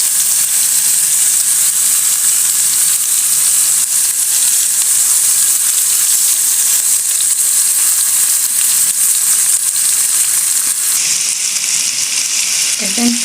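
Onions and oil frying in a cooking pot, a steady close sizzle with hiss that runs without a break for the whole stretch.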